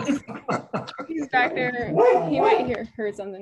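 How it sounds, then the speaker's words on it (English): A pet dog barks and yips repeatedly in a home, its sharp barks mixed in with a close voice talking over them. "Sorry, that's my dog."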